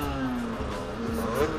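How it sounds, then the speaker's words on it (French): A car's exhaust note while driving, a steady mid-level engine drone with a slight rise in revs near the end, no voices. "Par contre j'aime bien le bruit du pot d'échappement."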